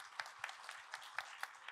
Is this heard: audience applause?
yes